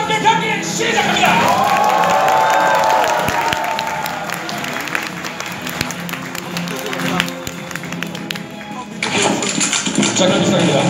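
A large crowd roars and cheers continuously at a Counter-Strike Online exhibition match over a loud, busy mix of engine-like noise and voices, swelling again near the end.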